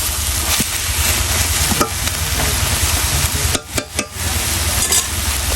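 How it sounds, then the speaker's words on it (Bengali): Leafy red and green greens stir-fried in a pan, a steady close sizzle with scraping stirs and a few brief pauses in the frying noise. "শাক ভাজাটা হয়ে গেছে,"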